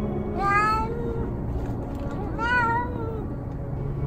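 A stray street cat meows twice, long, drawn-out and plaintive, close by over steady outdoor background noise.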